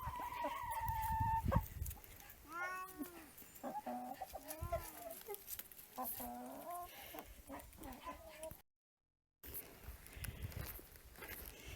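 Hens and a young rooster clucking close by in a farmyard, a run of soft repeated clucks and chirring calls with light shuffling footsteps, one brief dropout near the end.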